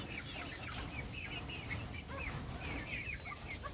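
Cochin bantam hens and chicks cluck and peep in an aviary, a dense flurry of soft high chirps and clucks, with a brief flutter of wings, all fairly faint and continuous.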